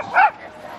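A puppy gives a single short yip or bark, fairly close and brief, set against a quiet indoor room.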